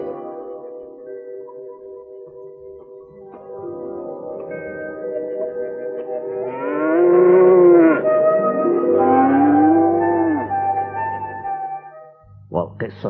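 A cartoon cow in the Sindbad animated series lets out long, drawn-out moos, two swelling bellows rising and falling over a soft background.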